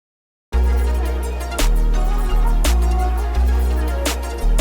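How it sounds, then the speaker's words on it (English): A trap-style beat where the snare is shifted back to land on the changes of a deep 808 bass note, with crisp snare hits, rolling bass and steady hats, loud and up close. "I wanted to shift the snare back and emphasize the change of the 808 note."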